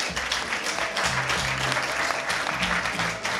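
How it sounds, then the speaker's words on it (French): Dense audience applause with scattered cheers at the Vieilles Charrues music festival, steady and fairly close, with a few voices faintly mixed in underneath. "Christophe Mieux Sec, sous vos applaudissements"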